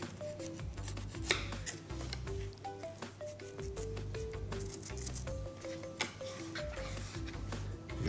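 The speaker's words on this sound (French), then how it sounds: "Je vais procéder à la même découpe pour le céleri." A knife cuts washed, peeled celery into thin slices on a board, making steady rhythmic chopping taps, close and clear, with music playing softly underneath.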